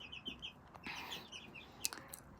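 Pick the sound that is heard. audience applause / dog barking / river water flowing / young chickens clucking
young chickens clucking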